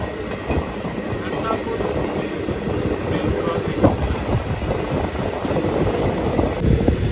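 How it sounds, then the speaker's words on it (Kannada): Narsapur–Hubli train passing on the line beside a station platform: a close, steady rolling rumble with irregular wheel clacks and wind buffeting throughout. "ಸೊ ಈಗ ಟ್ರೈನ್ ಕ್ರಾಸ್ ಆಯ್ತಲ್ಲ, ಅದಿದ್ದು ನರಸಾಪುರ ಹುಬ್ಳಿ ಟ್ರೈನು"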